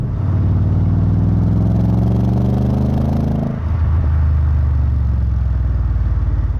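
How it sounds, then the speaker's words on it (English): A manual C5 Audi RS6 engine hums loud and close at high revs, then the pitch falls sharply as the revs drop quickly during a gear change and settle into a lower drone. "because the car hasn't been programmed to be a manual, the revs drop very, very quickly"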